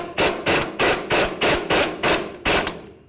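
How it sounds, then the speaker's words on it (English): A wrench works the locking nuts on a ball joint bolt of a 1988-2002 GMC Sierra 1500, giving a run of about nine evenly spaced, loud ratcheting bursts close up. "So now we're going to use our wrench, hold the bolt on the bottom side"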